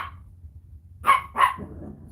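A dog barking because it wants to play, two quick close barks in succession after a faint yip, loud and alone with no talking.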